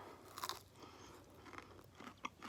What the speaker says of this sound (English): Super crunchy. Can you hear it?